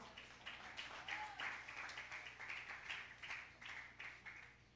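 A congregation claps during an evangelistic night service, a faint but steady rhythmic pattern of hand claps pulsing evenly throughout, heard from a distance with little else around it.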